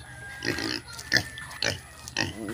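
A farm pig grunts close by in four or five short rhythmic bursts, clear and fairly loud, with no talking over them.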